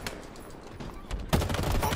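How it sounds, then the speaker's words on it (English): Gunfire in the video game Halo Infinite, including a shotgun, bursts out loudly in the second half after a quieter stretch of scattered firing and game noise. "Above me, shotgun."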